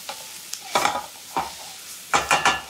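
Leftovers and bread frying in a pan over high heat, a loud close sizzle with several bursts of vigorous stirring and tossing, clustered near the end.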